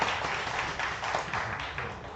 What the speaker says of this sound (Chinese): 我们也掌声欢迎